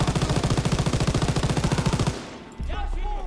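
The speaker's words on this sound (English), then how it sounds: "We could take the MG42." A WWII MG42 machine gun in Call of Duty WWII hammers out a long, fast, evenly pulsing burst, loud and close, then cuts off into a short lull with rumbling game ambience and distant effects.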